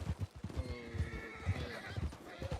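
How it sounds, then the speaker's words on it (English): A Missouri Foxtrotter horse whinnies faintly while its hooves clop in a steady rhythmic beat, heard at a distance at low volume. "Is that not a fully trained horse? It is. No, it is a fully trained horse. Fully trained Missouri Foxtrotter."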